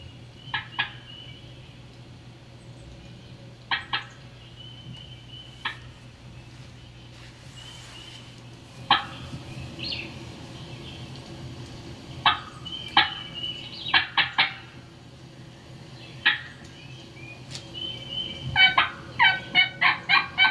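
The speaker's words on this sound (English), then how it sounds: "this is when we start working the turkey" Bursts of wild turkey gobbling ring out at a distance, scattered at first, then coming faster in a rapid run near the end, over a low steady hum.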